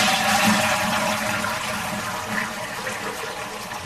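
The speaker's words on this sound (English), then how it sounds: "you need some sort of toilet flushing" A toilet flushes with a loud rushing gush of water that slowly tapers into a steady hiss of refilling, heard alone without speech.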